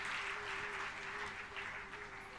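Audience clapping at a Bhagwat katha, a steady wash of applause filling the whole moment with a faint sustained tone running beneath it.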